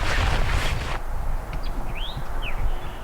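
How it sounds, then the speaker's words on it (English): A prairie warbler sings a brief thin rising phrase at a distance in a meadow, faint above steady wind and rustling noise, with another bird call nearby. "Hear that guy? That's a prairie warbler."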